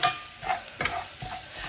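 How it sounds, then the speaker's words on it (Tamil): Egg being stirred with masala in a hot frying pan, a soft sizzle broken by a few scraping stirs of a spatula, close and fairly quiet, no voices. "அடுத்து நம்ம முட்டையை சேர்க்கணும்"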